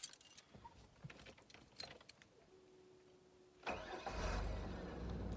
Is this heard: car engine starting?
yes